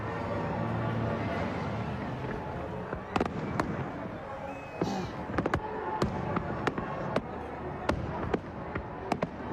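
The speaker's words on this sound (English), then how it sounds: "Watch the fireworks, Tommy," Fireworks burst and crackle at a British banger racing event, several sharp loud bangs arriving irregularly over a constant crowd and outdoor rumble, with a brief whistle in the middle.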